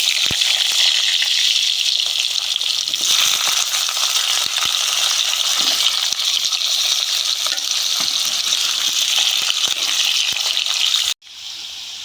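Potatoes fry in a pan for rui fish curry, a loud, continuous, close sizzle with bubbling oil and occasional stirring clicks, running unbroken until a sudden drop near the end.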